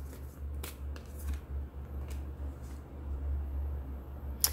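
Tarot cards riffle and flick in quick, crisp bursts over a low steady hum. A sharp snap sounds near the end, with no voices.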